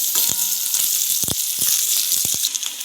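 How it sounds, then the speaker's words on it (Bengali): Finely chopped onions tipped into a hot frying pan already holding green chillies for an egg, potato and cauliflower curry, crackling with a bright continuous sizzle and several sharp pops and spits. "আগে থেকে কুচি করে রাখা পেঁয়াজগুলোও দিয়ে দিচ্ছি"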